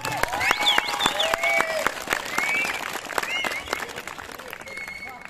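An audience at a Ramleela closing ceremony gives scattered applause and cheers that fade over a few seconds, with voices talking over it.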